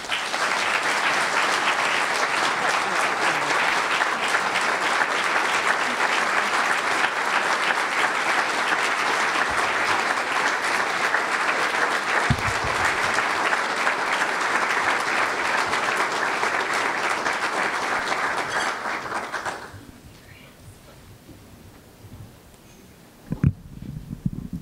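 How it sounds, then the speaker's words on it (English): Sustained audience applause fills a hall at a university athletics Hall of Fame ceremony, loud and steady for about twenty seconds before fading away, followed by a brief quiet and a few last claps. "Let's have one more round of applause for both of our inductees into this year's Hall of Fame."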